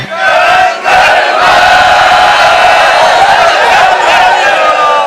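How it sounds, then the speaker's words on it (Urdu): A large crowd at a Muharram majlis in a Sindh village chants religious slogans in unison, loud and sustained throughout with a brief dip near the start. "نعرے لگا کے."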